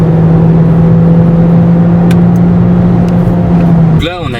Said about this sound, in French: Là, j'accélère. Et là elle va monter beaucoup plus haut dans les tours.